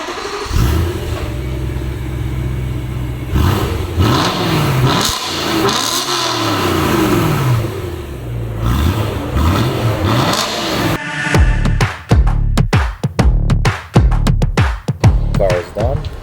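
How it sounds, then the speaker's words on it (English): A BMW E92 M3 engine revs through an exhaust with a cutout, rising and falling in several swelling revs, then sharp bursts and pops near the end, with brief voices between. "So let's do a quick little rev so you guys can see."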